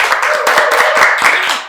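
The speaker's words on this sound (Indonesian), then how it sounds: "tepuk tangan dulu dong." A small group clapping hands at a student podcast recording, close and loud with quick, steady claps for a couple of seconds.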